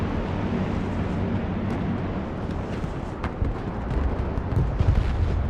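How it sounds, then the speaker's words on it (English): Artillery strikes pound a battlefield in a real-time strategy game, a continuous low rumble of distant explosions with sharper impacts building toward the end, loud and steady throughout. "look at the artillery strikes"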